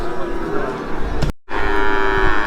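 A red desi bull at the Hazratpur cattle market lows loudly and close by, one drawn-out moo broken briefly by a cut, with market voices faint in the background.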